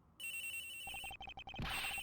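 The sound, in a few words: cell phone ringing inside a locker, from a video game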